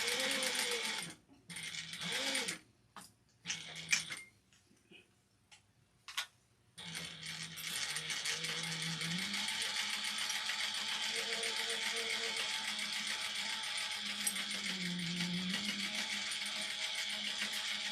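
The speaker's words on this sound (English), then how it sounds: "we're going to sew along the middle edge, and the edge of this at 1/4 of an inch" Sewing machine stitching a seam on a witch hat, first in short stop-start bursts, then running continuously as a fast, steady mechanical whir with faint clicking, close and fairly quiet.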